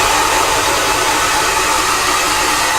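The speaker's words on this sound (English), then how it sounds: "So just blow drying it into the shape we want, which is to the left." A hair dryer on its cold setting blasts steadily while blow-drying a man's hair into shape, a loud continuous airy roar with no talking.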